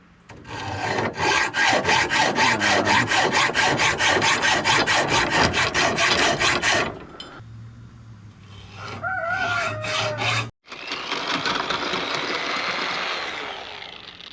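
PVC pipe being sawn by hand for kayak rod holders, with a loud, fast rhythmic rasp of strokes for several seconds, then a lower machine hum and a second stretch of continuous cutting noise, all close and without speech.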